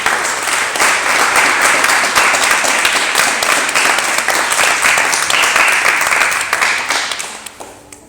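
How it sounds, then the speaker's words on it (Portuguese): Church congregation applauding for a sustained stretch, a full, even wash of clapping that holds steady and then tapers off near the end. "Você pode aplaudir Jesus?"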